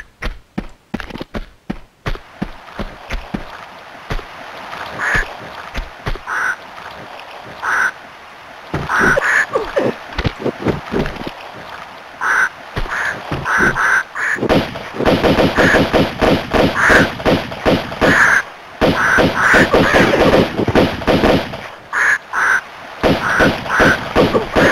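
Repeated gunshots ring out in a video game demo while ducks quack between them, loud close bursts in an irregular rhythm that grows denser toward the end.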